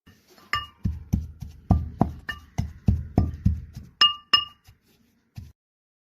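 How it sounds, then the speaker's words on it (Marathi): A pestle striking a mortar while pounding gram flour, sesame, coconut and jaggery, a sequence of sharp hard knocks about every third of a second, several with bright clinking ring, tapering off near the end, without speech. "खोबरं घालून ते कुटून घेते आणि मग गूळ घालून कुटते"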